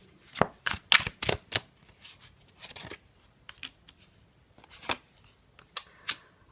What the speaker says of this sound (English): shuffle on camera for a little bit